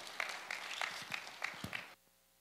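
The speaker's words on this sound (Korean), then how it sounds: "목사님 나오실 때 사랑과 존경의 마음으로 큰 박수로 목사님 맞아주시기 바랍니다." Church congregation giving brief, fairly quiet applause for the pastor, scattered claps lasting about two seconds before stopping abruptly.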